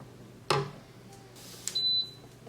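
An air fryer oven signals it is preheated with a short, thin electronic beep, faint and a little distant, following a brief clunk in a quiet kitchen.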